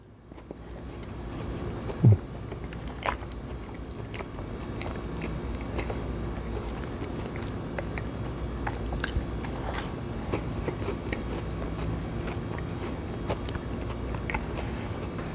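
Close, steady chewing of an M&M's cookie from a Crumbl bakery, soft moist mastication sounds running continuously with one sharper bite near the start and faint crunchy ticks throughout, no talking.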